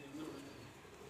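Pigeons from a pigeon-flying club coo softly after landing on a shed roof, a faint low murmur of cooing that runs steadily beneath the background noise.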